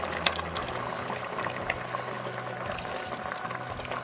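Broken wheat simmers in a pot for Kerala-style godhumai payasam, a soft steady bubbling with small pops over a low hum, close and quiet, with no talk.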